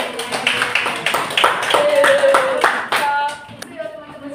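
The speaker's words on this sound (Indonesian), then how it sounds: "Oke, tepuk tangan semuanya." A school class claps hands in a classroom, a ragged burst of claps with uneven rhythm for a few seconds, with voices mixed in under the clapping.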